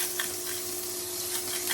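Shrimp sizzling in a hot stir-fry pan with noodles and vegetables, a steady, even hiss that stays at a moderate level for the whole stretch with no voices.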